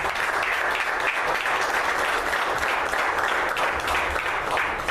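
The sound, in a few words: congregation applause in church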